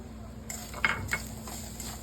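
Spoon stirring grated coconut and jaggery in ghee in a pan, a few soft scraping knocks and light clinks over a faint background hiss, close and quiet.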